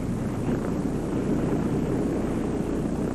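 A turbine-powered drone takes off with a loud, steady roar that fills the clip without a break or change.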